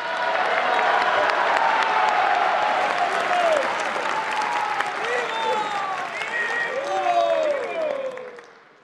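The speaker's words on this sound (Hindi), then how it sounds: "मैं ताली बजाना शुरू हो गया" A large audience applauds continuously at a 150th anniversary event honouring Srila Prabhupada, dense clapping filling the space with a faint voice underneath, fading slightly at the end.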